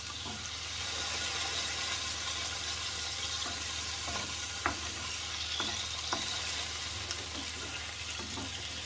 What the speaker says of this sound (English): Then we're stirring the garlic and the remaining lemon zest.